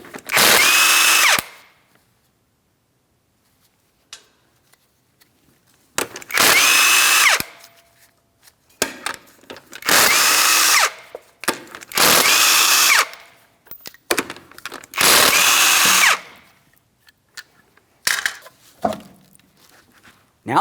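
Power tool spinning off the 19mm lug nuts on a 2007-2014 Ford Edge wheel, five loud separate bursts of whirring and rattling, each a second or two long, with short quiet gaps between them.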